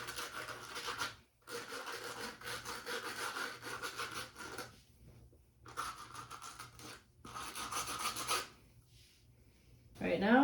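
A brush scrubs a white leather sneaker with shoe cleaner in small circles, producing repeated close, rasping strokes in bursts separated by brief pauses, ending with a sharper scrape.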